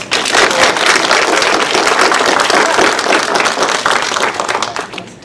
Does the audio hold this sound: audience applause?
yes